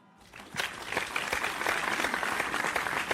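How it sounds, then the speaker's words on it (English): Applause from an audience celebrating a space-themed party finale, starting after a brief quiet moment and building into sustained, dense clapping that stays steady to the end. "Another round of applause for Libby."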